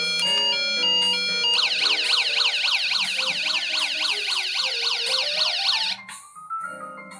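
A toy Mercedes-Benz ambulance siren, 1/28 scale, cycles through electronic tones, then switches to a fast wailing ambulance pattern, loud and close, before cutting to a lower tone.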